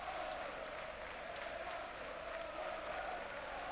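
Aston Villa supporters at a 1999 football match against Arsenal applaud in a broad, distant wash of clapping and crowd noise, steady and faint throughout.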